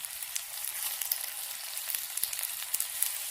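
Onions sizzle and fry in a pan with chicken pieces, a steady bright hiss dotted with small pops and crackles, close and continuous with nobody speaking.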